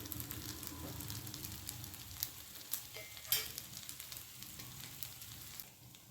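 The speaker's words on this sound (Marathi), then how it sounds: "आप्पे हे शेकून होत आहेत" Appe roasting in oil in an appe pan give off a steady, close sizzle and crackle with a few small pops and clinks throughout.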